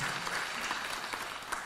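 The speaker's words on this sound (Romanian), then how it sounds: "vă rog să-l aplaudăm" An audience at an orthodontic congress claps steadily in a brief burst of applause, dense and moderately loud throughout.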